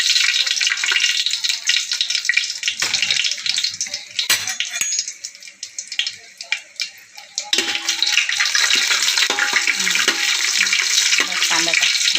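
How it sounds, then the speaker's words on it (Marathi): Onion frying in a pan for prawn biryani with bay leaf, cinnamon and cardamom, a loud, continuous hiss and crackle that dips briefly in the middle, with voices faintly underneath. "आता कांदा भाजून घेऊ"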